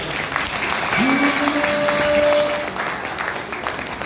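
An audience at a business talk applauds, a dense wash of clapping with some distinct nearby claps, fairly loud, while a voice briefly calls out over it in the middle.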